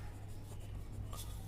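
A pen scratches across paper while a maths solution is written out, a soft, faint, continuous scribbling close by over a low background hum.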